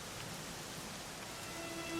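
Steady rain falls in the video game Dragon Quest XI S, a dense, even hiss that holds at a constant level throughout with no voices over it.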